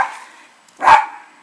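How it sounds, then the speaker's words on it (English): An unruly pet dog at home gives a single loud, sharp bark after a fainter sound at the start, with no talk over it. "Oh my god, the dog is out of control."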